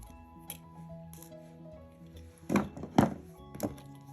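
Wire snipped while making a herringbone beaded bracelet, heard as a few close, crisp cutting clicks and thunks, two sharper snaps grouped together near the end, with no one talking.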